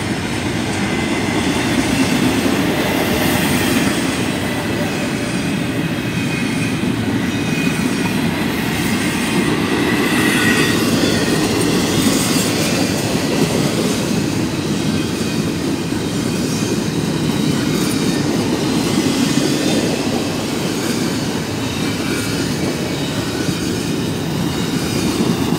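A westbound CSX freight train of empty cars rolls through McKeesport, a continuous loud rumble of wheels and cars with faint squealing and clatter throughout, close and unbroken.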